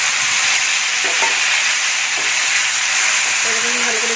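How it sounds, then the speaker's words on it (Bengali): Ginger and tomato paste sizzling and frying in hot oil, a loud, steady hiss throughout with a few faint stirring clinks. "আদা টমেটোর পেস্ট আমি এর মধ্যে দিয়ে দেবো।"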